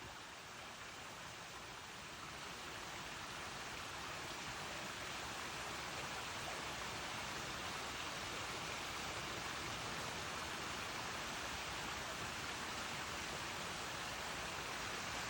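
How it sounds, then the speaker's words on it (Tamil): Steady rushing and babbling of water flowing in a stream, continuous and even throughout, with no voices. "தண்ணி எங்கேயோ ஓடுற சத்தம் கேட்குது"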